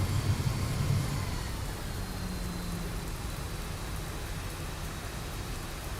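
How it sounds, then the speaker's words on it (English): Steady rain in the X-Plane 12 flight simulator patters as an even hiss around a cockpit, with a low rumble underneath and a slightly louder start. "Oh, rain is back, but I don't see anything on my glass."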